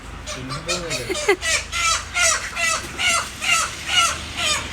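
A chicken clucks and cackles in a rapid, rhythmic series of loud calls close by, with faint background noise underneath.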